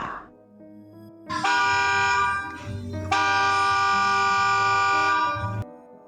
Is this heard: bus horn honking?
yes